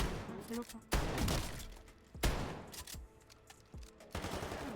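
Bursts of automatic gunfire from the Modern Warfare campaign, with several loud broadband volleys at intervals and quieter shots and noise between them.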